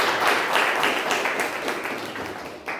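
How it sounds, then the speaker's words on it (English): Applause from an audience at a Toastmasters club meeting, a steady crowd of clapping hands kept up at an even level throughout, with no voices over it. "A big round of applause."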